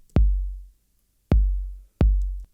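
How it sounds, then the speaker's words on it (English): Three dry, unprocessed electronic kick drum hits with a deep low thump and long decaying tail, spaced over a sparse two-step pattern, loud and isolated with no other sounds. "Without the effects on the kick or on the bus, it just sounds like this."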